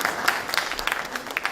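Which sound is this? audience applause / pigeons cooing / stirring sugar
audience applause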